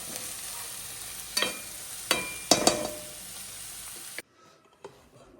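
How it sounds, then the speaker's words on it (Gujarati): Onions fry in a pan with a steady close sizzle, punctuated by four or five sharp scraping stir strokes, before the sound cuts off abruptly to near silence with a couple of faint knocks. "આ ફ્રાય થઈ જાય, સરસ પાકી જાય ડુંગળી"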